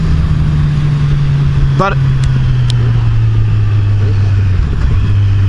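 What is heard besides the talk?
2014 Kawasaki Z1000 Special Edition motorcycle engine during ride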